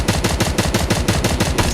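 Rapid automatic gunfire in a competitive shooter video game, an evenly spaced burst of about a dozen sharp shots, loud and close.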